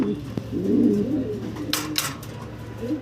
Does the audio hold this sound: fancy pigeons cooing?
yes